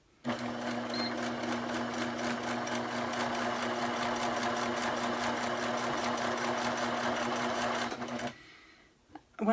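A sewing machine stitches the binding of a fabric quiet book in a fast, even rhythm for about eight seconds, then stops, leaving a brief quiet rustle.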